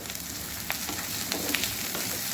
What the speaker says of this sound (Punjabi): ਹੁਣ ਅਸੀਂ ਇਹਦੇ ਵਿੱਚ ਪਾ ਦਵਾਂਗੇ ਆਪਣੀਆਂ ਕੱਟੀਆਂ ਹੋਈਆਂ ਤਿੰਨ ਚਾਰ ਹਰੀਆਂ ਮਿਰਚਾਂ